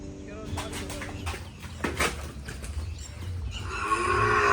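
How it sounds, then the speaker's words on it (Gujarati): A Kankrej bull or cow lows on a farm, a couple of drawn-out moos rising near the end, with farmyard noise and faint bird clucks in the background. "બુલ આવ્યો છે."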